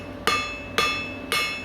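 Hammer striking hot steel while forging tapers on the jaws of scroll tongs, three evenly spaced, ringing metallic blows, close and clear with a faint hum beneath.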